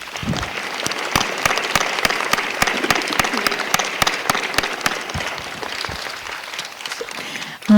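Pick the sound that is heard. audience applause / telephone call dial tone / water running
audience applause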